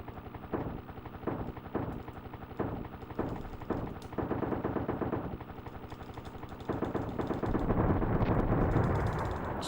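Rapid bursts of gunfire in the helicopter video game Desert Strike: Return to the Gulf, rattling steadily for about ten seconds and building into a dense, louder barrage near the end, with no talking.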